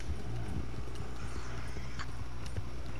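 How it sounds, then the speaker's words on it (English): In Red Dead Redemption 2, a horse gallops in toward the player, its steady hoofbeats loud and close over continuous game ambience, with a brief whinny. "your horse is coming up this hill fast as shit"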